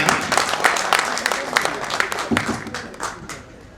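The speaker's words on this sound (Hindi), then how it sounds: "एक बार तालियां बजा लिए, जोरदार तालियां" Audience at a Hindi comic poetry gathering breaking into applause, a dense burst of clapping that gradually thins and fades over a few seconds, with voices mixed in.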